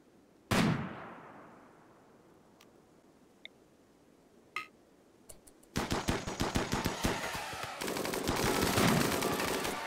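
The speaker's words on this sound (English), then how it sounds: "That is a lot of gunfire." Heavy machine gun fire in the video game RimWorld comes as rapid dense bursts, sustained and loud, after a single sharp shot and a few scattered reports.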